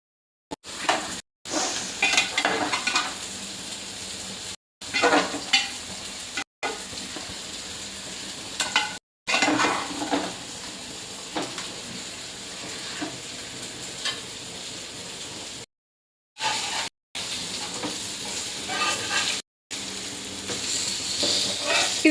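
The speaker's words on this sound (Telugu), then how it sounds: "చూడండి నీట్గా కలిపేసుకున్నాం మొత్తం అన్ని" A fish tamarind curry (chepala pulusu) is stirred in a pan, giving steady scraping and bubbling sizzle through most of the stretch, broken by several short silent gaps, with no talk over it.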